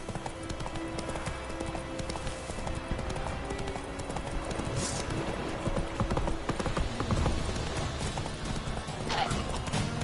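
Geralt's horse Roach galloping in The Witcher 3 video game, a dense, continuous run of hoofbeats with a neigh, layered over busy game ambience.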